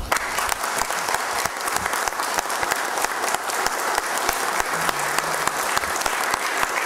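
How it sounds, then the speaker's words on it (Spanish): A crowd at a municipal citizen security committee meeting claps continuously, dense and fairly loud, with individual sharp claps audible through the steady patter and no one speaking. "Muchas gracias por el aplauso"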